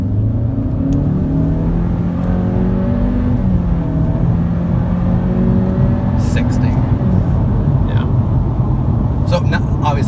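A 2017 Honda Civic Hatchback pulls away from a complete standstill, its engine note climbing steadily through a smooth, unstrained rev with faint road whir, heard from inside the cabin while a person talks over it.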